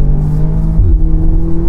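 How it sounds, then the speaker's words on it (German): Audi S3 Cabrio accelerating hard, the engine's loud steady drone climbing in pitch through a gear change, heard close from inside the car with no talk. "wenn ich gleich Gas gebe, das Ding fliegt hier weg"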